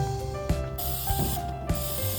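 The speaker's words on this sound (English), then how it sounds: "Give it a quick spray to coat the grate before I put on the meat" Cooking spray hisses onto a grill grate in a few short bursts over a steady mechanical hum, close and fairly loud, before pork goes on the grill.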